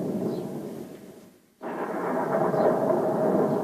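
Thunder from a lightning strike in a horror film rolls loud and sustained, briefly drops away almost to silence, then surges back in a heavy, steady roar.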